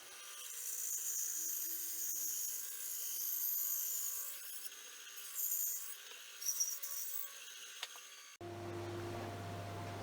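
Bandsaw cutting rough curves into a scrap of New Guinea rosewood for a hammer handle in a shed, a steady high whining rasp of blade through hardwood with brief shifts as the piece turns, ending abruptly.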